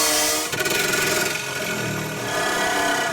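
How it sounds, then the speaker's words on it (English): An angle grinder cuts through the composite floor of an Airbus A320 fuselage, a loud, steady high-pitched whine with a gritty rasping edge that holds for a few seconds. "Cue angle grinder Ace Perry."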